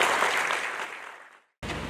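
An audience at a law-association book presentation applauds a guest, the broad clapping fading steadily to silence before a brief quiet and then renewed room sound.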